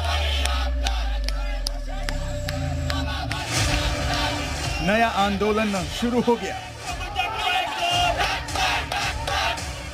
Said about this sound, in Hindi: ढाका में हजारों छात्रों की भीड़ सड़क पर है।